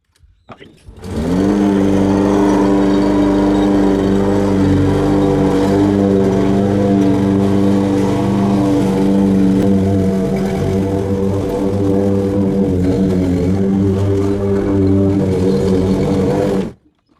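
Toro Recycler walk-behind lawn mower engine starts and runs steadily while mowing a yard, a loud, close, continuous droning hum with strong harmonic tones that holds for about fifteen seconds and then cuts off abruptly.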